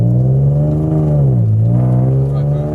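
An ethanol-fuelled stage 3 Audi S5 making 530 hp accelerates hard with its exhaust valves open, a loud, close, continuous engine drone that dips briefly in pitch and then climbs again.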